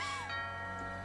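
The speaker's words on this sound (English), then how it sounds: "Ding dong." A doorbell chimes once in the video game What Remains of Edith Finch, a short, faint two-tone ring that fades out with nothing else heard.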